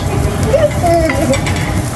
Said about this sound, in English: Frying onions.